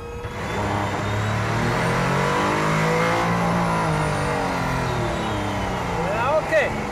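The combustion engine of a Mercedes-AMG One hypercar revs loudly and steadily with a dense, high-pitched, race-car-like drone that holds for several seconds, while people talk over it.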